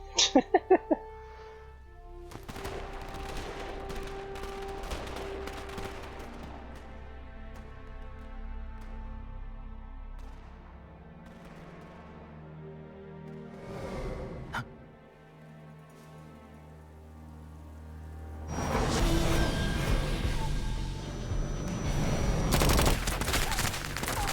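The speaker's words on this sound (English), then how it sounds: "Nice fireworks." Fireworks exploding in a video game, with a quick burst of crackling pops at the start, a long stretch of music and rumbling, then a loud, dense barrage of crackling blasts near the end.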